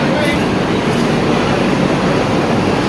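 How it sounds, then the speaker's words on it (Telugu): Double-decker AC train at Tirupati, heard as a loud, steady rumble of rolling rail carriages filling the whole stretch, close by and without a break. "ఎక్క మమ్మీ ఎక్క డబల్ డెక్కర్ ఏసీ ట్రైన్."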